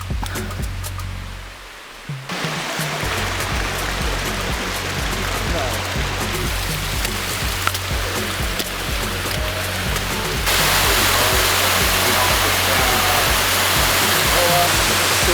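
A stream flows at a water crossing near the Panamint City ghost town, a loud, steady rushing wash that grows fuller and brighter toward the end, with a low rumble underneath.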